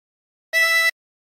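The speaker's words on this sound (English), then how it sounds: "For phrase two, blow into 8." A single blown note on hole eight of a harmonica, a steady reedy tone with bright overtones, held for under half a second alone in silence.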